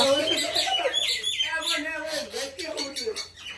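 Myna birds chirping and squawking nearby in a rapid, busy string of calls, fairly faint, with people talking in the background.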